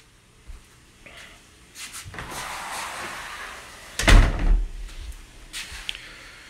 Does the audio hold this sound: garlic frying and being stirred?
no